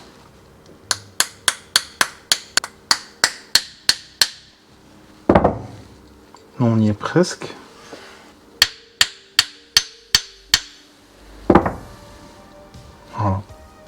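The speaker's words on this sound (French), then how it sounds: "Donc pour ça, on va utiliser un petit marteau." A small hammer taps a tool on a BMW N-series petrol engine injector, first in a quick run of about a dozen sharp metallic clicks, then more spaced taps between bursts of rustling and handling, with someone speaking briefly.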